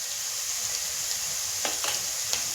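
Turmeric sautés in oil with well-browned onion for a chicken masala, a soft low sizzle with a few brief stirring scrapes near the end, quiet and close, with no voices.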